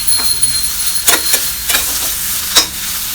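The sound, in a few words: frying chopped coriander leaves with tomato masala in a pan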